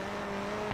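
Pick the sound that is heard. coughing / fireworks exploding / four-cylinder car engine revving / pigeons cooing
four-cylinder car engine revving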